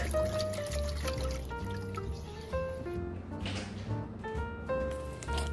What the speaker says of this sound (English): While still stirring, pour in 1 cup of milk.